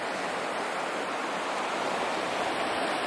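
A river rushes beside a parked campsite near Emerald Lake, a steady broadband roar of flowing water with no breaks, fairly close and even throughout.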